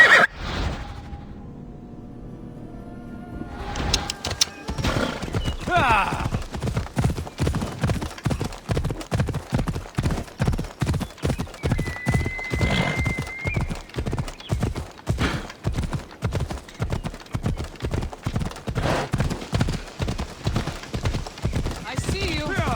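Phobos the horse gallops in Assassin's Creed Odyssey, a steady, loud, rapid clip-clop of hooves. It starts after a neigh and brief rustling and keeps up an even rhythm throughout.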